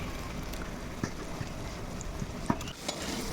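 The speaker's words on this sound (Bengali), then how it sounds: "কাঁচা লঙ্কা পেঁয়াজগুলো হালকা ভেজে নেওয়ার পরে আমরা এখন দিয়ে দিচ্ছি গুঁড়ো মশলা" Onions and green chilies sizzle in a pan as ground cumin, turmeric and chili powder are stirred in, probably outdoors at a picnic. The frying hiss is steady, with occasional spoon clicks and scrapes and a light wind-like rush.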